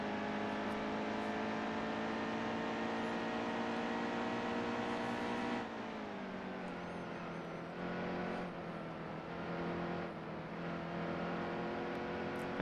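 A stock car engine in NASCAR Heat 2 drones steadily at high revs, dipping as the throttle is feathered through a tight corner and then building again, heard alone and fairly close.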